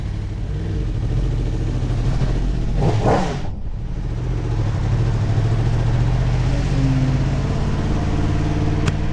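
A 2024 Yamaha YZF-R1 sport motorcycle engine runs loud and steady throughout, with a brief whooshing swell near the start as the bike sets off, then a continuous rumbling drone.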